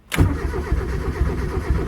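A Mazda 323 engine cranks over with a steady, rhythmic churning, starting abruptly and continuing loud and close without anyone speaking.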